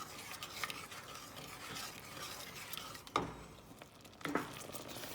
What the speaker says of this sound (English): You're going to stir that constantly for 5 minutes.